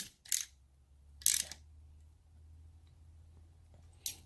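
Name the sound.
tightening bolts on Honda Grom handlebar clamp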